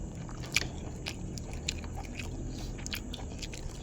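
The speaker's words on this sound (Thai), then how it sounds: "มากินถั่วงอกทุกคน" Crunchy bean sprouts are bitten and chewed with beef noodle soup, several crisp little crunches over a steady low background hum, close up.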